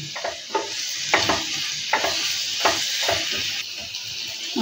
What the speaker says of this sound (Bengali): এবার এটাকে একটু ভাজা ভাজা করি।